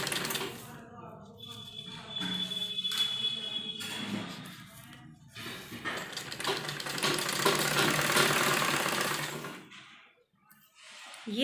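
A sewing machine stitches piping onto a kurti neckline in several bursts of fast, whirring, buzzing running, separated by short pauses. It is close and fairly loud, and someone talks in the gaps.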